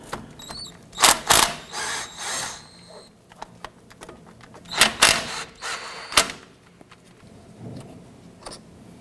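A ratchet loosens the 10mm brake caliper slide pin bolts on a 1997-2006 Jeep Wrangler, giving close, sharp bursts of metallic clicking in several separate spells with quiet gaps between them.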